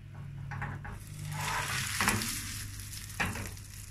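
Flour-coated cauliflower frying in a pan, a dense steady sizzle close up with a couple of sharper crackles and scrapes, no voices.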